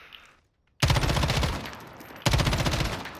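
M4 rifle in Call of Duty firing long full-auto bursts, loud and close, a rapid even stream of cracks that cuts off briefly and resumes with no talking.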